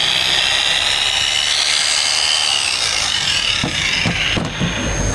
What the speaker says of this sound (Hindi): इसके साथ हमारे पास ये ग्राइंडर है, एंगर ग्राइंडर। जैसे ही हमने इसको चलाया, ये भी अच्छे तरीके से प्रॉपर वर्क कर रहा है।